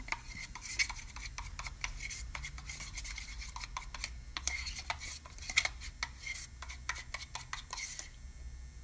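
Cerusing wax mixed with paint being stirred, a quiet run of close scraping and clicking taps as the tool works around the container, repeated irregularly and faint throughout with no talking.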